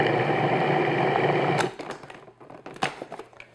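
A food processor pulses apple pie crust dough, its motor whirring loud and steady for over a second before cutting off, followed by scattered clicks and rattles of handling.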